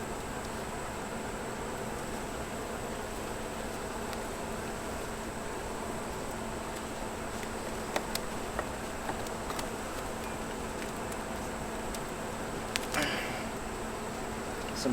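Honeybees buzz around open hive frames fitted with Bettercomb, a faint, steady drone throughout with occasional light knocks and handling sounds nearby.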